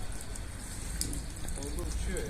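Steady rain hisses outdoors in a pigeon-keeping area, a faint, even wash of drops with no clear pauses that lasts the whole short moment.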